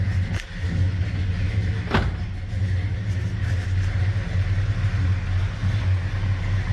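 A ratty Mopar car engine idles at about 800 rpm, a steady, smooth low rumble close to the microphone, with a couple of brief thumps near the start.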